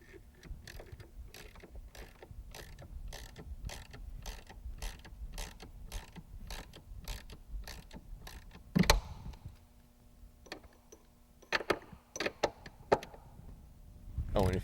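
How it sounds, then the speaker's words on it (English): A hand ratchet clicks in a rapid, even rhythm while tightening bolts during a 2004 Cadillac install, then gives way to scattered clanks and knocks of tools and parts. "Oh, and if you notice, I got my ratchet."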